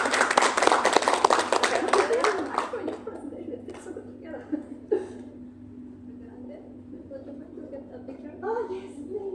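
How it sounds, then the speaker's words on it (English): Audience applauds a speaker in a loud round of clapping that dies away after a few seconds, leaving light laughter and a few voices over a steady low hum. "Let me give a bigger round of applause for her."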